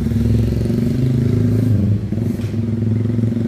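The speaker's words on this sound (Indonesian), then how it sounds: "Ini knalpot motor balap ini." A Yamaha Vixion motorcycle fitted with a racing exhaust idles and revs close up, a loud, steady engine rumble with a slight dip partway through.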